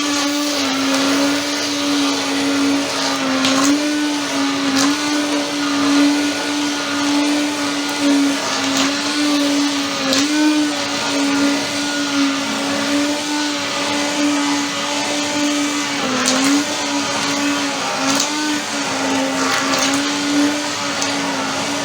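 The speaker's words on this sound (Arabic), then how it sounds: "بصوا منظر العدس يتضرب بقى ونغرفه." A blender purees lentil soup in a steady, loud, continuous whir with a strong motor hum that wavers slightly as the load shifts, running without pause and with no talking.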